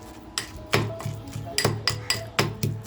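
Rawas fish pieces being mixed with masala and freshly pounded wet turmeric in a dish, giving repeated clinking taps of a utensil against the dish in a steady rhythm, close and fairly clear with no talking.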